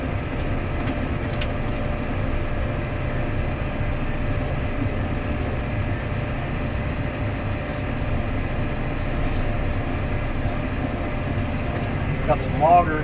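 A tractor drives slowly in low gear while feeding hay after a Kansas snowstorm, giving a steady, continuous engine rumble with a low drone that holds evenly from start to finish.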